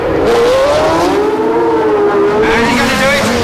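A Formula 1 car engine screams upward through first and second gear toward 11,000 rpm, a loud continuous rising whine with gear-change dips, heard close and alone.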